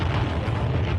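Footage of the 1961 Tsar Bomba Soviet nuclear test carries a deep, rumbling blast roar, heavy low-frequency boom sustained loudly through the whole moment.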